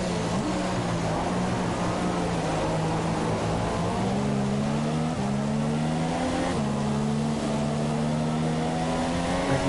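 An F2 race car at the Malaysian Grand Prix, a sustained engine drone with slowly shifting pitch and a couple of gear-like steps, steady and moderately loud, with no talking.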